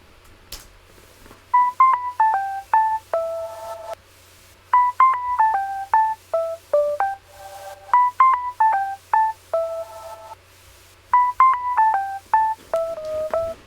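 A synth melody heavily saturated and compressed with the OTT plugin, from an electronic music drop: bright, stepped tonal phrases repeating in four similar bars over a low sustained bass, with no voices.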